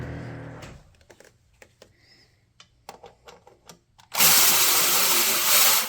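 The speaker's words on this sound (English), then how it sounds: "I'm going to cheat again because I have an electric ratchet" Clicks and rattles of an electric ratchet on a Jeep Renegade 2.4L alternator bolt come first, then a loud, steady motor whir close by for about two seconds as the bolt spins out.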